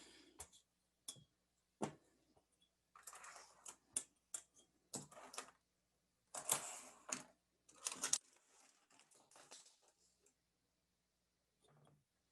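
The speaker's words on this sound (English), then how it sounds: "I just pushed like a bunch of pencils off the desk." A scattered series of sharp clicks and clatters as a bunch of pencils tumble off a desk and hit the surface, in otherwise quiet.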